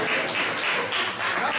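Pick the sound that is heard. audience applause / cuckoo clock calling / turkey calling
audience applause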